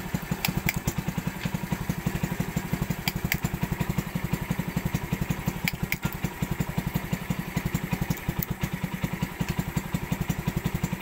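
A motorcycle engine idles steadily, a close, even putter with rapid regular pulses and a light mechanical clatter continuing throughout with no one talking.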